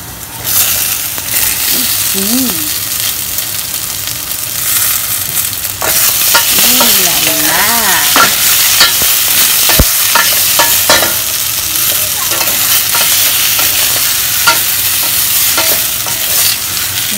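Shrimp stir-fry in a wok with garlic, ginger and dried chili, making a loud, close sizzle under continuous tossing and scraping. A brief voice-like tone is heard, and there is a sharp clack near the middle.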